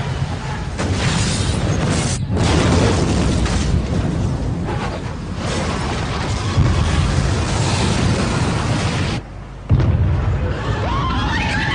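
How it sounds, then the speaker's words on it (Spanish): A nuclear bomb detonation rendered as a loud, sustained roaring blast that fills nearly twelve seconds of dense rumble, broken only by two brief dropouts, with no voices. "los terroristas consigan detonar una bomba nuclear en el corazón de alguna de sus grandes ciudades, provocando su devastación"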